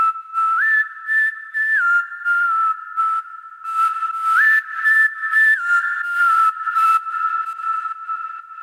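Simple three-note melody in a clean, whistle-like synth tone, heard first plain and then with added effects, the notes stepping up and back down in a steady repeating pattern, clear and alone.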